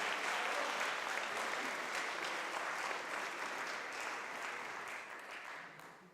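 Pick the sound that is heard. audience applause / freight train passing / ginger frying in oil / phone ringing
audience applause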